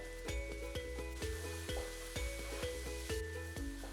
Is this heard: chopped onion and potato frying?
yes